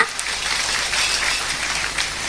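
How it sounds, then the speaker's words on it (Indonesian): A congregation at a Sundanese Islamic sermon gathering in Ciawi, Banjarharjo, Brebes applauds the santri, a dense, steady patter of many hands clapping at once that runs unbroken and fairly loud. "tepuk tangan dong buat santri seluruh Indonesia"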